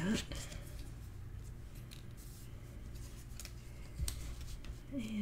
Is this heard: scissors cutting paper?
yes